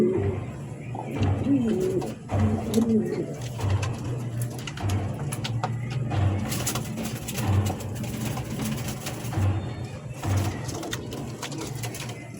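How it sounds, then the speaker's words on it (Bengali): Golla pigeons, a breeding pair offered for sale, coo in deep, soft, evenly spaced low calls repeating roughly every second, close by, under a busy background of other birds and faint voices. "এখন যে আরেকটি দেখাচ্ছি এটা হচ্ছে গোল্লা কবুতর"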